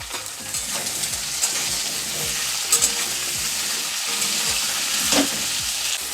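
Pumpkin pieces tossed into a hot pan fry with a constant crackling sizzle, punctuated by scattered pops and spatula scrapes, close and fairly loud, with no voices.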